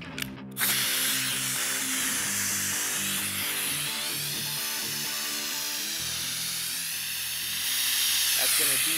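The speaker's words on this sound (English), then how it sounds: "We're going to connect our vacuum generator." A compressed-air vacuum generator draws air out of a Spartan patch, starting abruptly after a moment of quiet and then holding a loud, steady whirring hiss with a mechanical edge for the rest of the stretch.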